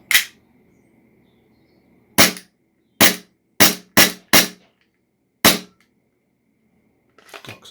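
An HFC HG-185 gas blowback airsoft pistol fires seven sharp, loud, close cracks in an uneven sequence, mostly clustered with short gaps, followed by a faint rattle of handling.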